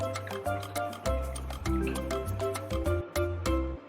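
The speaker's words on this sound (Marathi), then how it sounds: "आणखीन यामध्ये आपण थोडंसं पाणी टाकून घेऊयात" Water poured into a glass of mint juice for a summer mint sharbat, a close, continuous liquid gurgle with short breaks as the stream stops and restarts, with no talking.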